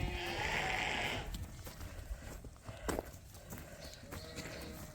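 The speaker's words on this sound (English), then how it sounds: "This should be our little flock of sheep." A small flock of farm sheep bleats near a sorting chute, several overlapping calls standing out at first, then hoof clatter and scattered movement as the animals shuffle about.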